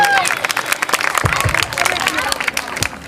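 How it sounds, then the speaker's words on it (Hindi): Crowd applause and scattered cheering welcoming a speaker at a two-day Jas Jhanki competition event in Pipariya, Khairagarh, dense and continuous throughout, with a voice mixed into the crowd noise. "जोरदार ताली के साथ स्वागत अभिनंदन करें भाई।"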